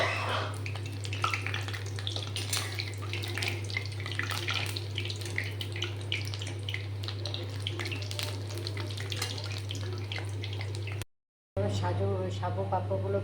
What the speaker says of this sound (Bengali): এবার লুচিটাকে এভাবে এখানে ভেজে নেব